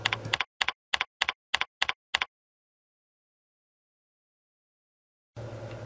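Seven quick, crisp keystrokes tap on a computer keyboard as a word goes into a search box, close and clean against silence, followed by a long pause and then a faint room hum.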